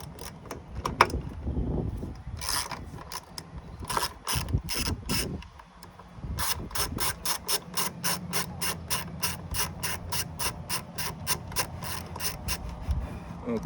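Bolts being loosened with a ratchet on the strut tower of a 2017 Dodge Charger Scat Pack V8, a close, rapid run of clicking pawl strokes after a few slower scraping turns.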